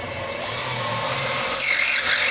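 A power drill fitted with a microstop countersink cuts countersink holes in aircraft sheet metal, giving a steady, loud whirring grind with a rising metallic scrape near the end, heard alone.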